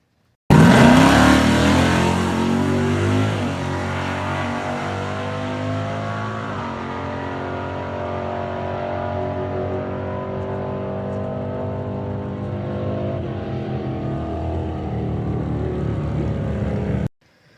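A Camaro makes a ten-second quarter-mile drag pass at Tulsa Raceway Park during test and tune, its engine roaring loud and steady from launch through a long rising pull, then cutting off abruptly at the end, with no talk over it.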